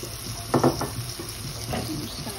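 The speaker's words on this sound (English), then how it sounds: "That's been sizzling away for a couple of minutes now." Blended tomato and cashew masala sizzles in a pan, a steady soft hiss with a few stirring scrapes and clinks near the start, close by and moderately loud.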